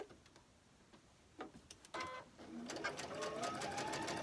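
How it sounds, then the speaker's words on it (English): A sewing machine stitching a quarter-inch seam in cotton fabric. A few faint ticks and starts give way to a steady, close mechanical whirr of rapid stitching. "I am sewing a 1/4 inch, by the way, just in case you needed to know that"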